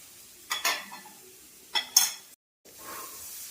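Ginger and ground turmeric, cumin and garam masala being stirred in a hot pan for veg idli, with two pairs of scraping spoon strokes over a soft sizzle, close by.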